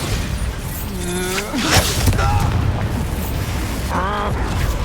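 A Bombarda blast goes off during a duel in Hogwarts Legacy, a loud booming burst amid magical whooshes and other spell effects, with voices shouting spells around it.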